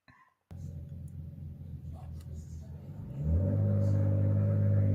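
A car with a loud muffler idles with a deep throaty rumble, then revs up into a louder, sustained roar, heard close and without talk.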